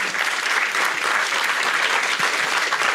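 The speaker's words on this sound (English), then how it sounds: "A round of applause for all of those." Audience applause at an African political forum session at party headquarters gardens, a dense, steady wash of clapping from a large crowd that holds at full strength for the whole stretch.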